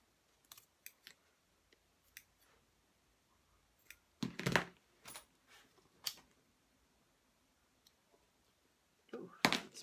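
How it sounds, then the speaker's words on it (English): Scissors snipping staples out of a crossbody bag's zipper end, scattered small clicks and snips with a louder cluster of cuts midway and another near the end, quiet between. "I'm just going to cut those staples out of the way."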